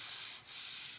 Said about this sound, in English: So let's begin sanding our board.